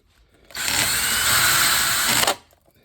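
A power drill bores into a control panel on a model railroad layout, giving one steady high whine that starts abruptly, holds for about two seconds and then cuts off, loud and close with no talking.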